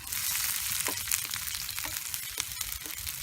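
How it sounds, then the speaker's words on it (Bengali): Chopped onions sizzle in hot oil in a pan as they are stirred, a steady close frying hiss broken by the occasional scrape and tap of the spoon. "এই যে দেখুন, পেঁয়াজগুলো এর মধ্যে নেড়ে দিলাম"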